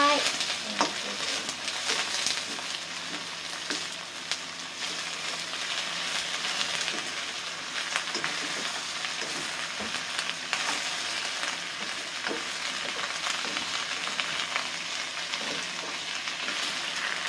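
Pansit noodles stir-fried in a hot pan give a steady, loud sizzle with a bright hiss, and scraping stirs break through at intervals. Nobody talks.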